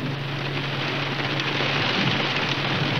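Steady, dense rain falls and patters on surfaces without pause, a loud, even hiss with a faint low hum underneath and no voices.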